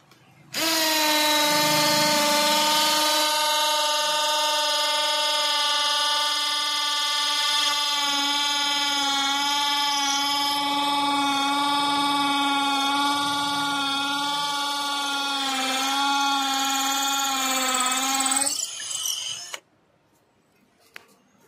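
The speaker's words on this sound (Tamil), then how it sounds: "கான்கிரீட்டில் எப்படி ட்ரில் பண்ண போகுதுன்னு பார்க்க போறீங்க." An Ingco battery drill bores into concrete with a loud, steady high-pitched motor whine for nearly twenty seconds, then abruptly stops.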